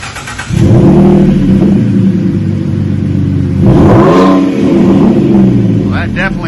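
A 2014 Ford F150 fitted with a Flowmaster Super 44 muffler and no resonator, recorded close by as a steady throaty idle that swells into a couple of revs. Some voice sounds are mixed in.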